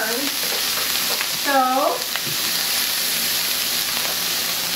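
Brussels sprouts and garlic sizzle in a hot pan with a constant close, bright hiss. A single short spoken word briefly breaks in near the middle.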